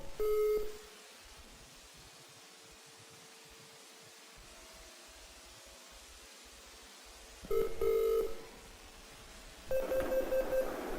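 Telephone keypad tones and beeps sound as a 1-800 number is dialed, coming in three short bursts: one at the start and two near the end, separated by a long stretch of quiet room hum.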